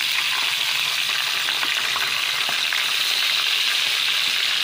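Boneless dried milkfish (daing na bangus) frying in oil in a pan as it is flipped, a steady dense sizzle and crackle running loud and close throughout, with no voices.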